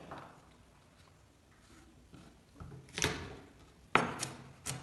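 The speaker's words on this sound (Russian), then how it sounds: "продолжаем нарезать наш чеснок" A knife cuts garlic on a cutting board during home cooking of a chickpea shurpa, giving a few sharp, close chopping taps that cluster near the end over faint background noise.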